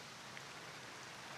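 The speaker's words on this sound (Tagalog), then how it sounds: "Malakas yung ulan sa labas." Heavy rain falls outside a tent, a faint, even hiss of drops with no breaks, distant and muffled.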